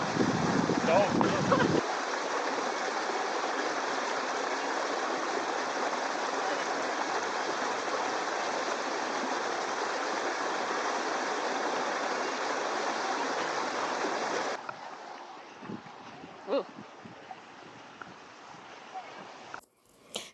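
A small stream of water runs steadily along a mini golf course for a long stretch, a close broadband rush that drops off sharply near the end, followed by faint scattered knocks and rustles.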